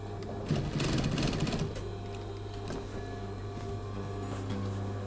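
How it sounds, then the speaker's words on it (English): Sewing machine stitching the edge of a shirt cuff flat onto a cape back, a steady close mechanical whir with a brief louder rattling burst early on, then a continuous even hum. "So let's just stitch that flat, the edge of the cuff flat onto the back."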